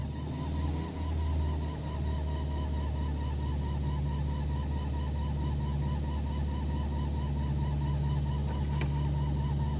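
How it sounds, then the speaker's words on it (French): A 1989 Renault Super 5 GTR running on 100% ethanol idles after a cold start at minus five degrees while a dry accessory belt gives a steady honking squeal. The squeal is loud and continuous over the low, even drone of the engine. "Je pense que c'était la courroie d'accessoires qui était un peu sèche avec le froid."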